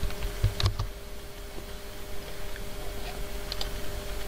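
Computer keyboard keys tapped steadily while entering text into a code editor, a run of light, close clicks with a couple of sharper strokes near the start, alone without speech.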